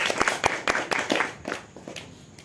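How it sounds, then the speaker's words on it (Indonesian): Scattered hand claps from a small audience at a literary discussion event, a handful of sharp, close claps spaced unevenly before thinning out. "Tepuk tangan dulu lah biar semangat."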